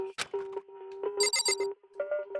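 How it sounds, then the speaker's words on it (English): A phone ringing in the Danganronpa video game, an electronic ringtone of repeated tonal bursts with bright chirping trills, clear and alone. "I think I heard my phone ringing there"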